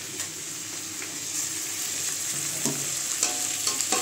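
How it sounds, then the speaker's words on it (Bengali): A fish head is fried and stirred in a pan for fish-head dal, making a steady close sizzle with occasional scraping stirs and clinks, and no one speaks. "মাথাটা কষাচ্ছি। হয়ে গেছে কষানো, আবার ডালটা দিয়ে দেবো।"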